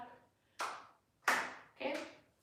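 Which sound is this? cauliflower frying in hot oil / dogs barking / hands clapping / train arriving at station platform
hands clapping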